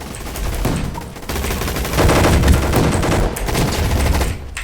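Rapid gunfire in the Roblox game Gunfight Arena, dense continuous bursts of shots that stay loud and close throughout, with no clear voices over them.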